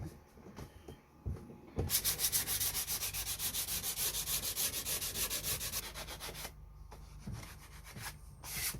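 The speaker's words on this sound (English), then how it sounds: "Only needed a light sand because it's just to give it a key" Light hand sanding of painted narrowboat interior paintwork, a fast rhythmic scrubbing that starts after a few knocks, runs steadily for several seconds, then slows into scattered rubs and taps.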